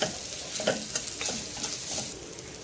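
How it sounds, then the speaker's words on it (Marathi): Half a spoon of turmeric sautés in hot oil for a Marathi spinach khichdi, with a continuous sizzle broken by several scraping stirs of a spoon against the pan, up close and with no voices. "अर्धा चमचा हळद टाकते आहे हळद तेलावर परतली की त्याचा रंग खूप छान येतो"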